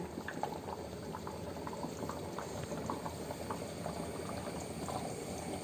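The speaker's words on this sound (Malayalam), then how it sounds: "ഇനി പച്ച വെളിച്ചെണ്ണയും കൂടെ ഒരല്പം ഒഴിച്ചു കൊടുക്കുവാണേ" Anchovy fish curry with raw mango and ground roasted coconut bubbles steadily in a pot as raw coconut oil goes in, a soft continuous simmering with tiny pops and no talk.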